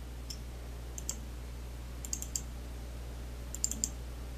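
A computer mouse clicks sharply about nine times in small clusters while someone works in Rhinoceros 3D modeling software, with quiet room hum between the clicks.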